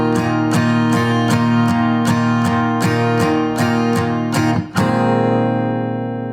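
Guitar intro from a song, played with one fretted finger and open strings: a steady run of about ten bright, ringing picked notes, close and loud, with no voices, the last note left to sustain.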